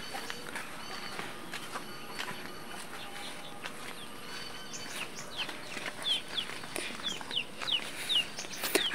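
Chickens on a backyard vegetable plot give short clucks and chirps, growing more frequent toward the end against a steady outdoor background of insects and distant noise.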